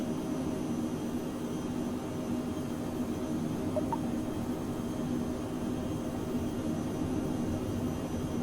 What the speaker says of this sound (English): Takeoff thrust is set.